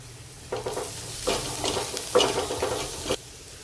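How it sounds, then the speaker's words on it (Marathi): Onion and chili sauté in a pan with salt and turmeric, the low steady sizzle broken by several scraping stirs of a spoon in an even rhythm, close and clear. "कांदा आणि मिरची परतली आता आपण मीठ टाकून घेऊ हळद टाकून घेऊ"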